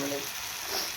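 A spice masala mixture fries in a pan with a loud, continuous sizzle and no talk.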